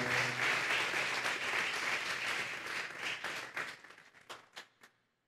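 A church congregation applauding during a sermon, a full steady round of clapping that dwindles into a few isolated claps and then stops.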